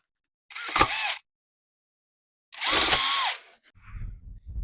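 A power drill whines in two separate bursts, each under a second long, while drilling out a bolt on a rough, stolen-and-recovered 2016 Kawasaki Z800 motorcycle, followed by faint clattering.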